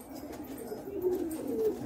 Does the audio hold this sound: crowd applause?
no